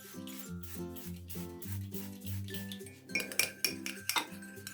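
Cutlery clinks and scrapes against a bowl as a salad is tossed and dressed, with steady rhythmic tapping that turns into a busier clatter of mixing toward the end.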